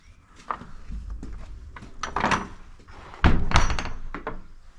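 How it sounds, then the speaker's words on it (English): A heavy church door is pushed open with a series of close, solid thunks, creaks and knocks that build to a loud bang near the end, and there is no talk. "Oh, that's a really heavy door,"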